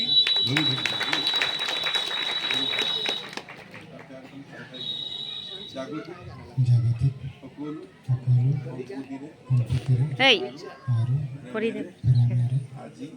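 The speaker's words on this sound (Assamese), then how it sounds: "আমি হাত তালি এটা দিম" People clapping at a wedding ring ceremony, a burst of rapid applause for a few seconds, followed by speech and quieter voices.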